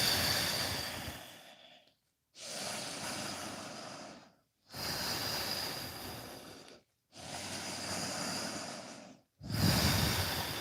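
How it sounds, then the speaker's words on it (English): Slow, steady breaths drawn in and out through the nose during a relaxation and stretching session, four long airy breaths separated by short silent pauses, close and soft, with no talking. "breathing through your nose"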